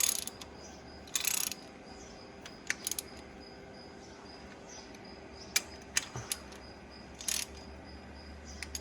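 Ratchet wrench tightening bolts on an Allis-Chalmers 7060 tractor engine, short faint ratcheting clicks in scattered bursts over a steady low background hum, with no talking.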